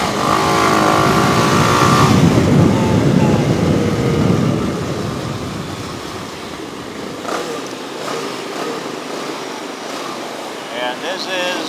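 Fast traffic with motorcycles and cars sweeping past on a road in Mabalacat, Pampanga, Philippines: a loud, close engine roar for the first few seconds, then a steadier, fainter rush of passing vehicles, with people talking over it.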